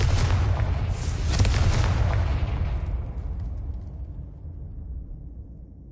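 A fire-spell explosion from the Hogwarts Legacy video game: a loud, heavy boom that swells over the first two seconds, then rolls off into a long, fading rumble, with no voices.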